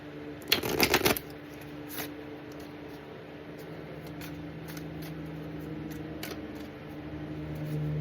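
Number cards with gold detailing are handled and flipped, a quick burst of shuffling riffles near the start and then occasional soft card flicks over steady room hum.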